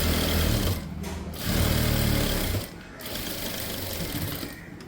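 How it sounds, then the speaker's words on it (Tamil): A sewing machine stitches the patti piece of a blouse, its motor whirring steadily close by in long runs that briefly slacken and then pick up again. "இப்போ பட்டி பீஸை ஸ்டிச் பண்ணலாம்."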